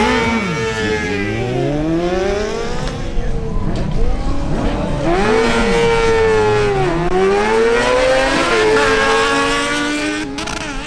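Yamaha R6 and Kawasaki Ninja Z1000SX motorcycles drag racing, engines screaming loud and close through rising, sweeping gear changes that repeat across the run, with a continuous high-revving whine throughout.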